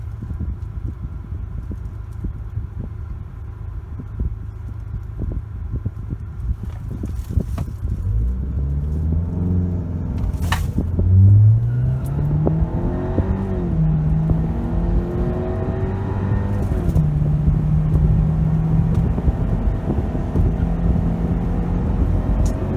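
A 2018 Ford Escape AWD Turbo accelerates hard down the Top Gun Raceway drag strip. The engine roar climbs steadily in pitch through gear changes, loud and sustained for the whole run.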